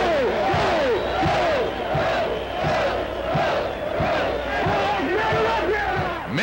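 Football crowd at Mississippi State versus Louisiana State in Jackson, a dense, loud roar of cheering and yelling that swells and surges continuously from start to finish.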